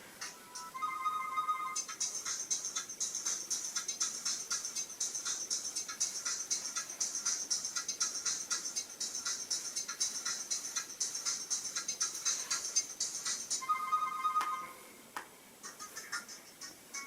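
A ringtone on a 2011 Acer Liquid Mini phone plays as a bright, rapidly pulsing electronic loop with a steady beat, running for most of the stretch before cutting off, followed by a few short electronic notes.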